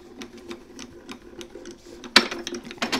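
A hand-cranked die-cutting machine feeds junior plates through with rhythmic mechanical clicking and whirring, then gives a louder crunching burst near the end.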